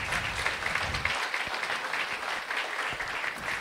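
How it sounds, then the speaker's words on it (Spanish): A church congregation applauds after a prayer at an evangelical service, producing steady, dense clapping at an even level for several seconds with no talk over it. "Si usted oró conmigo, dele un fuerte aplauso al Señor."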